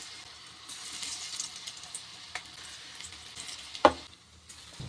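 Manchurian balls dropped one at a time into hot oil in a kadai over a medium gas flame give a faint, steady sizzle with a sharp plop or clink near the end, and no voices.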